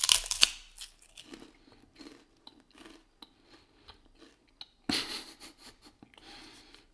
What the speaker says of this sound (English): I was chewing a rice cake on mute, hiding behind my mute button